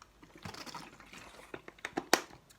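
Water is poured into a glass for drinking, a faint trickling fill followed by a few sharper clinks and drips near the end, heard up close with no talk.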